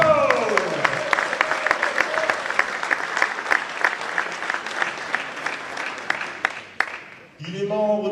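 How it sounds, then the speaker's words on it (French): Audience clapping at a table tennis match introduction in a French hall, dense and sustained for about seven seconds beneath an announcer's voice, then cut off as speech resumes. "Merci d'applaudir Zheng Chou."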